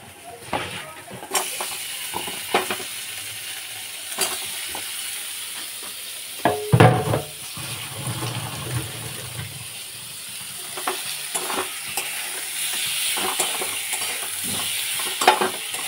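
Boiled potatoes fry in a little oil and get stirred in a pan, with an ongoing sizzle and repeated sharp clinks and scrapes from a spoon, one loud clatter near the middle, and occasional speech in the background.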